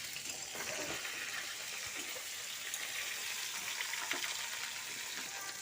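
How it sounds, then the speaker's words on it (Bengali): Fish pieces frying in hot oil in a pan while a Bengali thali is prepared, giving a steady, moderately loud hiss and crackle that runs unbroken throughout with no talk. "খুব ভালো করে আবার এগুলো ভেজে নিলাম।"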